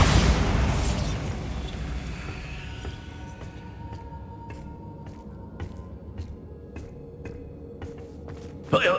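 A Bombarda explosion spell cast in the video game Hogwarts Legacy: a loud blast at the start that decays into a rumbling tail, followed by scattered small pops and clicks, with a second burst near the end.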